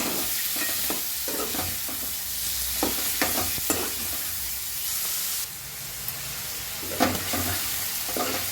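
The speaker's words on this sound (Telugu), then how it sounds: "అల్లం వెల్లుల్లి పేస్ట్ ఇప్పుడు మటాలు వేసేస్తున్నా ఉల్లిగడ్డలు పచ్చిమిర్చి నేను ఇంకా మంచిగా కలిపేసుకొని" Onions and green chilies stir and fry in a pan with ginger-garlic paste and turmeric for a tomato mutton curry, with a steady loud sizzle and repeated spoon-scraping strokes throughout.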